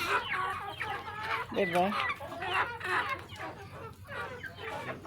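Chickens cluck and chatter continuously at close range, with a short spoken word partway through and a busy, noisy barnyard background.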